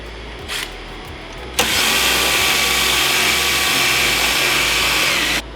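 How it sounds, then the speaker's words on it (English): A brief drill burst, then a power drill runs continuously at a steady high whine for several seconds before cutting off while countersinking drilled holes under a bar; no talking. "and countersinking them."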